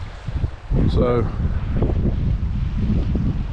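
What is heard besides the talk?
wind blowing outdoors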